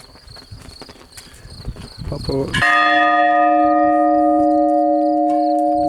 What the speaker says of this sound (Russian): Вот колокол такой, значит, тут находится.